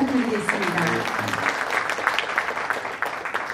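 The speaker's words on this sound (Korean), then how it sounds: "여러분 특별히 큰 박수 부탁드리겠습니다." An audience claps steadily, the applause holding at a moderate level, while a voice speaks briefly over the start.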